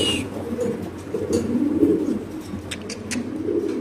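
Male pigeon cooing repeatedly at a pigeon farm, low rolling coos close by, with faint bird chirps in the background.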